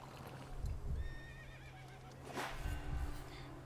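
Horse in the video game Prince of Persia The Lost Crown gives a clear whinny between bursts of clip-clopping hooves, heard close and fairly loud with no talking.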